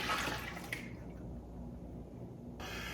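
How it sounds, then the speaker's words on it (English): Concord grape juice is poured into a cleaned canning pot in a home kitchen, giving a splashing liquid gush that trickles off and stops abruptly, then resumes briefly at the end. "I'm going to pour in my juice."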